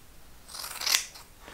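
Scissors make a single relief cut in fiberglass cloth for surfboard laminating, a brief, crisp close-up snip that swells and fades within a second against a quiet background.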